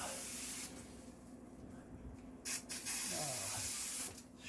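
Air hissing through an opened valve while a water system is winterized with an air compressor, a steady spraying hiss with louder bursts, under brief voices nearby.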